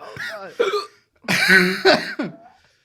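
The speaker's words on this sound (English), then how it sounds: "Oh god, why am I hiccuping?" Sharp, abrupt hiccups jolt out close to the microphone several times within a few seconds, mixed with strained vocal sounds from the person having them.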